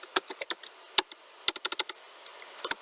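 Keystrokes on a computer keyboard entering router commands, a quick irregular run of close, crisp taps with short pauses between bursts.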